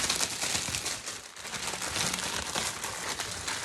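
A plastic bag crinkles and rustles continuously close by, with one brief pause partway through and no talking.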